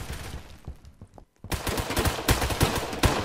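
Gunshots in the online shooter Phantom Forces start after a brief quiet gap: a fast run of close, sharp reports, with a few lighter pops beforehand.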